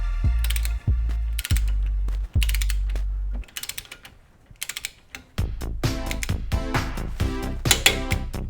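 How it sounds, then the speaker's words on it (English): A torque wrench ratchets ball joint nuts tight on a Lexus IS300 suspension, giving rapid close clicking bursts in several runs with short pauses between, loud and alone. "So I'll go ahead and just torque these things down right now, make sure everything's nice and tight"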